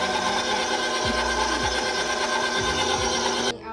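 An electric mixer at medium speed beats egg yolk and vanilla into cookie dough, a loud steady whine close by with a few brief dips in pitch, alone until it cuts off near the end.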